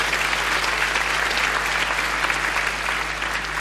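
A 1978 Dutch television studio audience applauds, a dense and steady wash of clapping that holds at full strength for the whole stretch.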